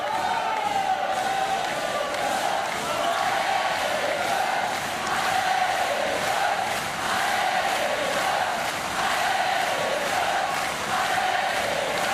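A large arena crowd at a Paralympic goalball match in Paris roars and cheers without a break. The noise is loud, dense and echoing, rising and falling in waves.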